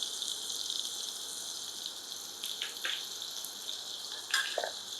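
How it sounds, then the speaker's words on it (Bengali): Pointed gourd slices fry in hot oil with a steady, soft sizzle and crackle throughout, broken by a few brief louder spits near the middle and end. "আমার পটল কাটা ভাজা হয়ে গেছে, আমি এবার পটল কাটা তুলে ফেলবো।"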